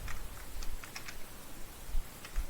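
Soft, fast keystrokes on a computer keyboard while code is typed, a quiet steady patter of irregular clicks heard up close with no talking.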